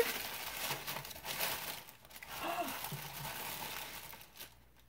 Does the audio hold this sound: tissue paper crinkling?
yes